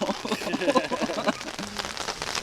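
Rain falling outdoors around a Ukrainian-style beehive, making a steady broadband patter with a voice-like murmur mixed in early on.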